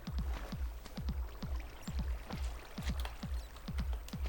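Flowing water in Minecraft runs with a rapid repeating sloshing, bubbly pulse, about two splashy beats per second, steady and fairly loud with no voices.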